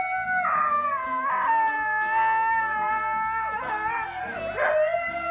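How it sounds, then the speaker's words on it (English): Siberian huskies howling together indoors: several long, loud, close wavering howls overlapping in a sustained chorus, with short yips and rising and falling pitch. "These are my Siberian huskies, and they have gone viral for doing funny things like this, and screaming, and howling, and talking back."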